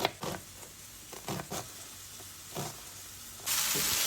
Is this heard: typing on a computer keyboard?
no